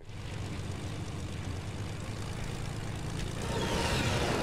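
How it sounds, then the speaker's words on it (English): An airplane passes overhead during an online shooter match, a steady broadband engine roar that swells louder toward the end with no voices over it. "A plane might be coming towards you."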